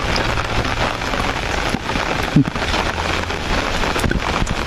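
Heavy rain pours steadily over an outdoor rural setting, a dense continuous hiss of drops on surfaces with a brief sharper knock partway through and no voices.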